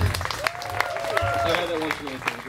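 Audience clapping at an acoustic show, a short burst of applause with scattered claps and a few cheers, fairly close and moderately loud, with a voice and a bit of instrument sound mixed in.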